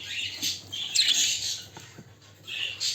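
Pet birds, a jumbo male and a Japanese female, squawk and chirp in sharp, bright bursts separated by short pauses, close by and with no speech.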